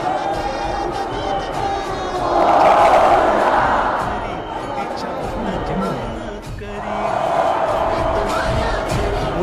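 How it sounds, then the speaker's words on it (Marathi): A large crowd of devotees gathers for the arrival of the Chintamani Ganpati idol, a loud continuous roar of voices that swells into cheering, dips briefly, then rises again. "भाविकांनी मोठी गर्दी केली होती।"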